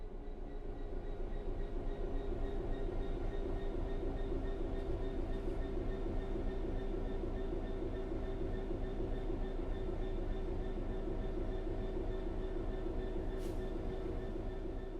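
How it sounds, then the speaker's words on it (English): A train in a simulator game coasts on level ground, giving a steady, even rolling rumble with a faint whine and no change in pace for the whole stretch. "The train will then coast on level ground, and the train will only slow down very gradually."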